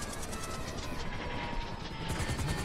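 Steady whirring rotor noise of a helicopter in the video game GTA 5, loud and dense, with a constant broadband roar and no voices.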